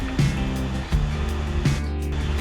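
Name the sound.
mixer grinding coconut, ginger garlic paste, cashews and fennel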